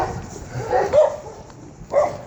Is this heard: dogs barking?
yes